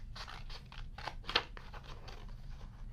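Scissors snip paper during a children's storytime craft, with a series of soft, quick cuts in a steady rhythm. The snipping is close but faint, with one slightly sharper cut midway.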